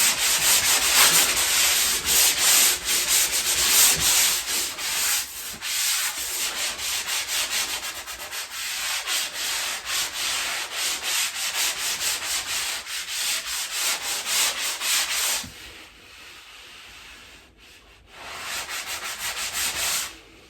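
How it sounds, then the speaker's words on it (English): Repaired drywall tape is sanded by hand to remove ridges, a steady, loud, close scratchy rasp of repeated strokes that pauses briefly near the end before resuming. "I want to just make sure that I sand out all the ridges"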